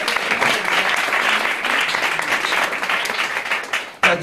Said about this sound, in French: on peut l'applaudir, Giuseppe